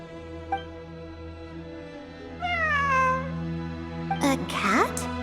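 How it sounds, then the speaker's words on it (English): A cat in the Genshin Impact video game gives a drawn-out, wavering meow, then a couple of sharper mews near the end, heard clearly over a steady low game-music hum. "It really is a cat."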